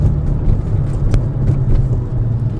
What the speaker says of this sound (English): Just change to fourth gear and it starts to stutter.